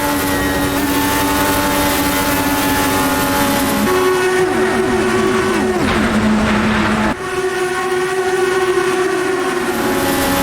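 Open-wheel IndyCar engines from Automobilista 2 scream at high revs down the straight of the Indianapolis 500, loud and continuous, with gear-shift pitch changes and several cars droning together, no talk.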